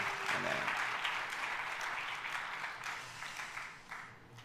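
A congregation at a Korean Presbyterian church revival's dawn service applauds in blessing, with steady, fairly soft clapping from many hands that continues throughout and fades slightly toward the end.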